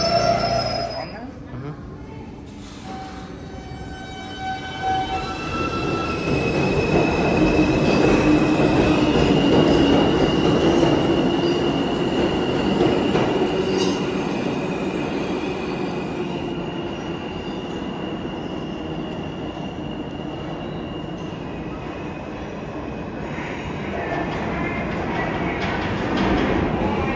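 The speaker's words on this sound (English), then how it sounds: "That's an old train." An old New York City subway train runs through the MTA system, a steady loud rumble of wheels and rails with high squealing tones and clicking, swelling and easing over nearly half a minute.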